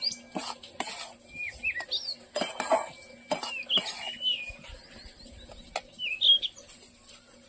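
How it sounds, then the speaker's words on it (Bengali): Semolina being dry-roasted and stirred in a pan for rava idli: light scraping and metallic clinks come in scattered bursts, while birds chirp clearly in the background. "এরপর সুজিটা দিয়ে খুব ভালো করে আমি ভেজে নেব"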